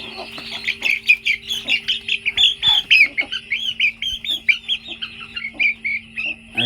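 Young native rooster chicks squawk close up while their feathers are trimmed, a rapid string of loud, shrill, repeated distress calls with brief gaps, against a faint steady background hum.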